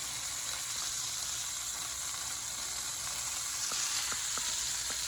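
Venison browning in hot Crisco gives a steady, close frying sizzle, broken late on by a few small crackling pops, with no voices.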